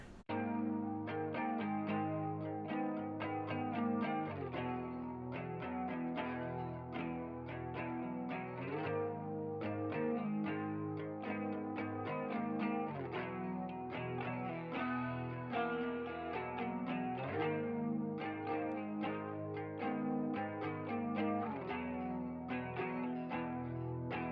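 Clean electric guitar chords and arpeggios with chorus and echo shimmer on, panned left and right, layered and wide, playing continuously with no voices.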